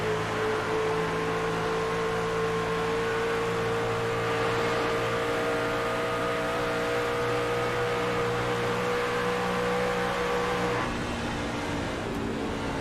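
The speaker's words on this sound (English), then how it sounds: "Let's turn it up and let's have a listen of the number 19 machine of Dylan O'Shea" Onboard engine of a NASCAR Truck Series race truck, a steady loud drone with sustained harmonic tones holding pitch before dropping slightly near the end, with no talk over it.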